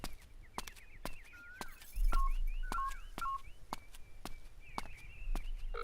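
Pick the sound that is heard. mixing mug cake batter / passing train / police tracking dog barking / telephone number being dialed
telephone number being dialed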